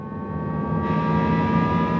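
A steady synthetic engine-like hum from a Jaguar I-Pace electric car that swells and brightens partway through, as if accelerating, heard up close with no talk.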